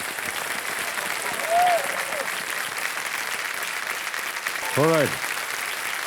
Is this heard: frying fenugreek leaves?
no